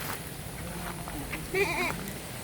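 A goat gives one short wavering bleat over steady outdoor background noise.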